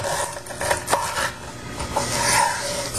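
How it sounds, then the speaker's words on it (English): Lemongrass stalk being bruised in a home kitchen to open it up for Thai cooking, giving close, dry rasping and rubbing scrapes with a few sharper knocks over a few seconds, no talking. "Bruise it a bit, really open it up, break those walls inside, it'll help the flavor come out"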